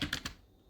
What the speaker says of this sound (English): Now you type ping